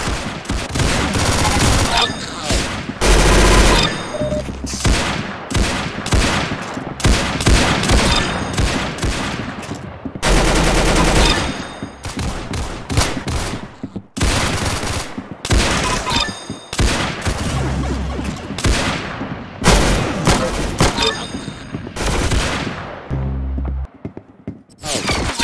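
Gunfire in a shooter video game, with dense bursts of rapid shots and heavy volleys repeating over and over at close range, loud and nearly continuous.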